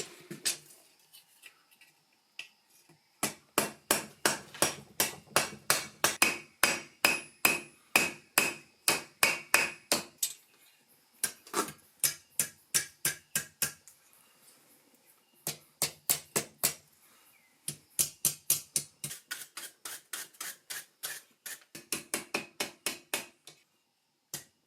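Hot steel being hammered on an anvil while forging a hook for a lion's claw steak flipper: runs of rapid, ringing blows in bursts separated by short pauses, close and clear with no talk.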